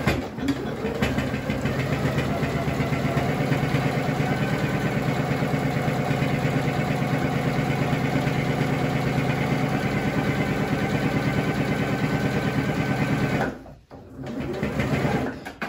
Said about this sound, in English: we're gonna sew at 1/4 of an inch, and you're just enclosing this, back tack